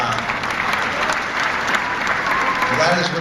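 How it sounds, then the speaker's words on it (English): A wrestling hall of fame audience gives a light smattering of applause: scattered, modest clapping at steady loudness for a few seconds. "that is what's known as a smattering of applause"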